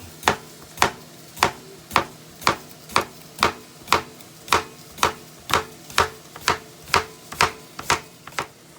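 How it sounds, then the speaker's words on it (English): A knife slices a cucumber on a cutting board for a salad platter, with about seventeen crisp, close, evenly spaced chops in a steady rhythm and no talk. "Cucumber. go through, cut it in the middle, and just slice it up."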